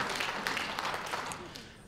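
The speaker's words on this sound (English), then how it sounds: "Applause for Judy." Faint applause breaks out for Judy at a Canine Alliance post-Crufts meeting, a quick ripple of clapping from a room audience that stays low throughout.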